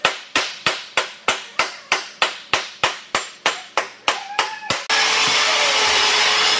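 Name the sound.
power tools cleaning up welds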